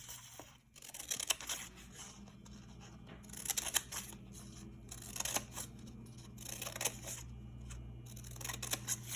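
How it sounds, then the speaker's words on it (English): Scissors snip strips into paper, not cutting all the way through, with a series of quiet, close, irregular crisp cuts and paper rustles in a calm room. "we are going to cut out strips, not all the way till halfway"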